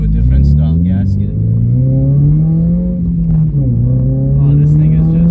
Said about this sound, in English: it's a Boxster engine, so it definitely has that, dare I say, Porsche tone to it